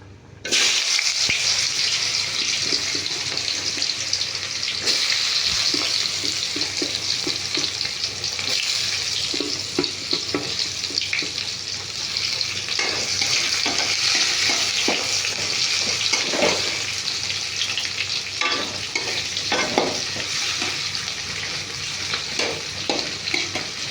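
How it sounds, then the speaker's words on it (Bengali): Onions frying in oil tempered with a bay leaf and a dried red chili for khichuri, a close, loud, continuous sizzle with crackling pops and stirring scrapes throughout, no speech. "ফোড়নেতে একটা তেজপাতা আর একটা শুকনো লঙ্কা দিয়ে দিলাম এবার এতে পেঁয়াজগুলো তুলে দেবো"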